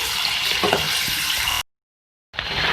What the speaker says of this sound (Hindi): इसको अच्छी तरीके से फ्राई कर लेंगे।